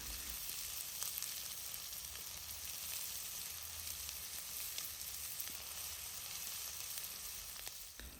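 Garlic, green peppers and carrots frying in a pan for a beef stew, giving a steady, even sizzle that runs throughout with faint crackles and no voices.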